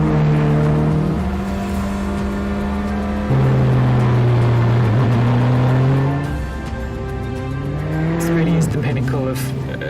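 A Praga sports prototype race car with a carbon body, high downforce and a powerful engine, screaming at speed in an esports sim race at Silverstone. The steady engine whine shifts pitch with gear changes and stays loud, with talking over it.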